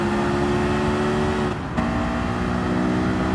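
Engine of a Honda S2000 in Gran Turismo 7 on Grand Valley Highway, a steady loud drone at high speed in fifth gear, dipping briefly as it crosses into a tunnel.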